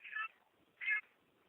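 A cat meows twice, two short, fairly faint calls with a pause between them, against an otherwise quiet background.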